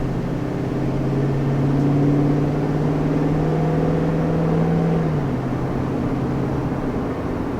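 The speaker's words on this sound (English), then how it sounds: "we're just cruising down the road going about 40, and this car, it rides really, really smooth" 2020 Toyota Tundra truck cruising down the road at about 40 mph, a smooth steady low engine hum inside the cab with a tonal drone that holds and then drops slightly, constant road rumble underneath.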